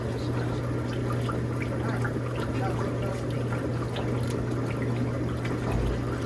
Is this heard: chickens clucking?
no